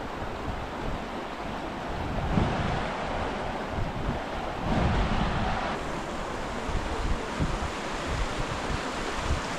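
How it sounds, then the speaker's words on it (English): Steady broadband rush of a river flowing at a bend in British Columbia, continuous and fairly loud with gusty wind buffeting the microphone, no voices. "it's right on the bend of the river"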